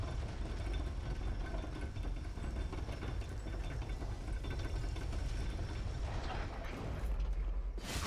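An elevator grinds steadily along in Dark Souls 3, a continuous rumbling, rattling mechanical drone that holds at an even level throughout, with a sharper clank right at the end.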